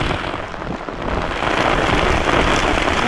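Heavy rain pours steadily on a farm during the rice-planting season in Konkan, a dense, loud, continuous hiss with no breaks and no voices.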